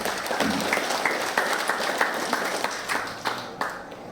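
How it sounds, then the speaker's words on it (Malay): Audience clapping at a thanksgiving gathering in a hall, a steady patter of hands running throughout with a few sharper individual claps standing out, moderately loud and fading slightly toward the end. "Puji Tuhan, dulu tepuk tangan sekali lagi."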